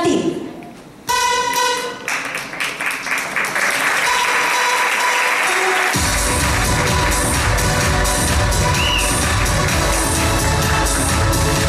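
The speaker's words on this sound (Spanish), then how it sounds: "Fuerte el aplauso a estas 27 candidatas" Loud applause from an audience at a children's self-presentation segment of the Miss Teen Models Venezuela 2018 pageant, for 27 young candidates. It starts with scattered claps and swells into dense, sustained clapping with crowd noise.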